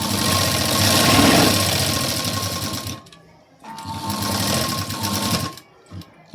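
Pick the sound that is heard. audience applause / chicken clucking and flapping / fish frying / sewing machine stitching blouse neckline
sewing machine stitching blouse neckline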